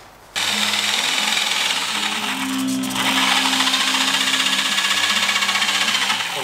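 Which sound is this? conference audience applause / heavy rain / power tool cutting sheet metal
power tool cutting sheet metal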